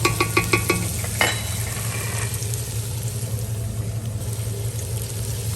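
Onions and celery being stirred in a pan with butter: a few quick scraping clatters at the start, then a steady soft sizzle with a low hum underneath.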